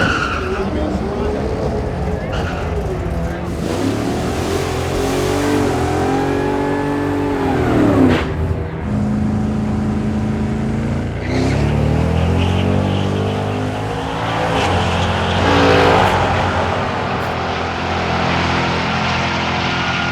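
A stock 2012 Ford Mustang GT with traction control off launches down a quarter-mile drag strip at Cecil County Dragway, its engine roaring and rising in pitch through the gears, with voices talking over the run.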